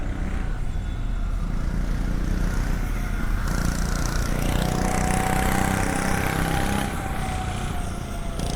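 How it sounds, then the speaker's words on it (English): A loud, non-street-legal motorcycle engine roars steadily nearby on a downtown Mesa, Arizona street at night, its pitch rising and falling slightly as it revs, with no voices. "That motorcycle's definitely not street legal."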